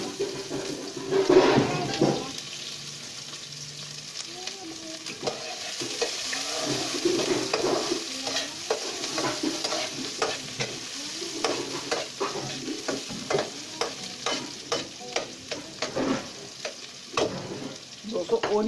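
Onions frying in hot ghee for village-style aloo methi crackle and hiss close by, with a loud burst at first as they hit the pan, then a steady sizzle under frequent stirring scrapes.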